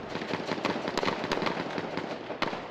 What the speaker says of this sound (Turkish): Saatlerce silah sesleri yükseldi.